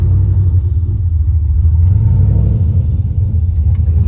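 Turbocharged LS engine in a 1993 Ford Mustang Foxbody revving steadily, a loud, continuous deep rumble throughout with no talking.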